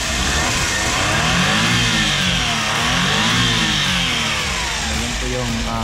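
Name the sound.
Suzuki DA64W 4x4 mini engine revving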